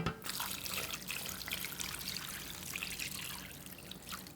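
Water pours steadily from a tap into a pot for blanching pork ribs, a continuous close trickling and splashing stream that stays fairly soft throughout.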